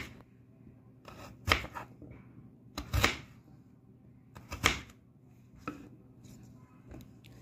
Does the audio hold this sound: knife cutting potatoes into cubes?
yes